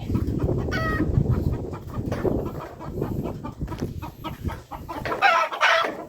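Chickens clucking and squawking close by around a rural village home, a busy, uneven series of calls with a sharper crow-like burst near the end, loud and without talk.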